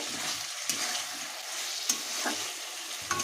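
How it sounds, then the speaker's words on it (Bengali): Chopped coriander is stirred into the tomato masala of a small-fish jhal, producing a steady close sizzle broken by several sharp spatula scrapes against the pan. "এবার দিয়ে দিচ্ছি ধনে পাতা কুচি, দিচ্ছি, ভালো করে নাড়িয়ে নেব মশলার সাথে।"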